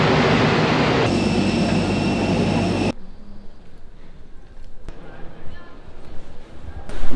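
A train runs along tracks near Meiji Jingu in Japan, a loud, close rumble with a steady metallic whine for about three seconds, then cutting abruptly to quiet outdoor ambience.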